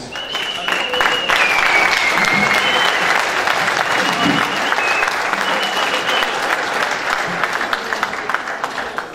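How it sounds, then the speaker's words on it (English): Sustained, loud audience applause at an evening event for the Cayman Islands International Fishing tournament, with cheering voices and whistles mixed into the dense clapping. "I think we have to give them a great round of applause for their vision, their commitment over the years"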